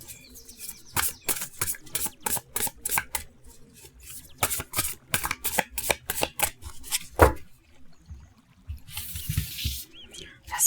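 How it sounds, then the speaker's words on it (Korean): Tarot cards are riffled and shuffled by hand in a rapid series of crisp, close flutters and taps, with brief pauses between bursts and a soft rustle near the end; no one speaks. "자, 이렇게 잘 섞고요."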